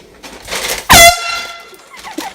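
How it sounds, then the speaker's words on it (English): A single sharp, piercing air horn blast from a prank, very loud and close, lasting a fraction of a second between quieter stretches of room noise and faint voices. "bothering the girls all day with the air horn"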